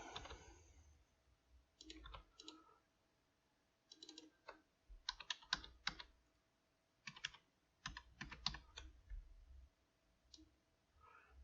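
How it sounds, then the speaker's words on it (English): Fingers type on a computer keyboard in short clustered bursts of clicking keystrokes with pauses between, close and fairly quiet, with no talking. "let's just retype this one out too"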